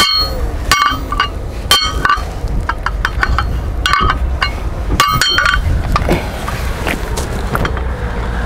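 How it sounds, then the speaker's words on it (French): An adjustable wrench striking a car tire on the street, giving repeated sharp metallic knocks and clinks at irregular intervals, loud and close over steady background noise. "je cours avec la clé à molette et je tape sur le pneu."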